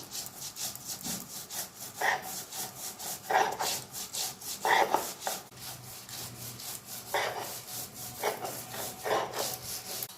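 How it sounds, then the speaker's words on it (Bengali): A stone pestle grinds mustard seeds with green chilli and salt on a flat stone slab in rhythmic rasping strokes. The scraping rubs come in repeated bursts about a second apart, close and clear, with no talking. "বন্ধুরা দেখুন সর্ষেটা আমি কী সুন্দর করে বেটে নিয়েছি একদম মিহি করে বেটে নিয়েছি"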